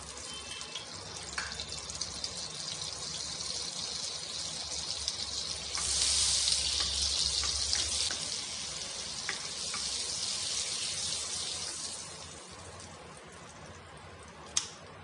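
Oil and butter sizzle steadily in a kadai for a paneer butter masala, a soft, constant frying hiss that swells briefly in the middle before settling again, with no talking.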